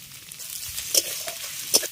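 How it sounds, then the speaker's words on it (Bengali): Spices sizzle and crackle in a hot pan with potato and chili powder, under brisk stirring and two sharp scraping clinks, with no talking. "মশলাটাকে খুব ভালো করে ভেজে নিলাম"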